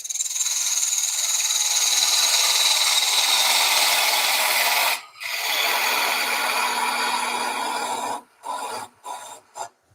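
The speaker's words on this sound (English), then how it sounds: "we'll go with the small gouge. Just going to clean up this outside edge." A small gouge cuts along the outside edge of a wooden kitchen scoop turning on a lathe, a loud, continuous scraping and whirring of the spinning wood that breaks off briefly near the middle and stutters to a stop at the end.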